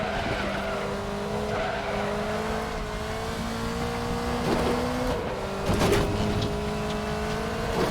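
Front-left tyre locking up on a Group C car in the RaceRoom racing game at the Nordschleife, a sustained skidding squeal riding over the steady engine drone, with a brief louder scrub near the end.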